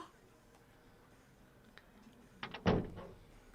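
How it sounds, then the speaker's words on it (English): A door shuts in the visual novel Steins Gate 0, a brief close thud with a couple of light clicks just before it, heard after a quiet stretch. "The door closed and I could hear her footsteps trail off into the distance"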